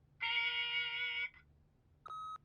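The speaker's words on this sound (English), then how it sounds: "leave a message at the beep and we'll get back to you as soon as..." Answering-machine beep in The Wolf Among Us video game: a long, steady electronic tone of about a second, then a shorter, higher beep, both clean over a quiet background.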